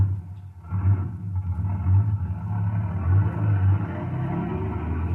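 A heavy vehicle engine rumbles into motion in an old science-fiction radio drama, a steady, loud low drone with slight swells as it pulls away, heard alone without talk.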